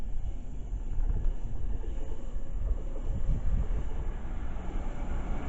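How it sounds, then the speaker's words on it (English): A London Overground Class 710 electric train passes Northwick Park station with a steady, fairly quiet low rumble and rolling noise that holds evenly throughout, with no talking. "there's a London Overground train coming by for a 378 or 710"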